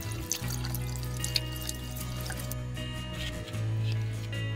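A faucet runs steadily nearby during face washing, a continuous splashing hiss with a brief break midway before the flow resumes.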